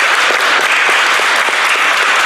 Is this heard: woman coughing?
no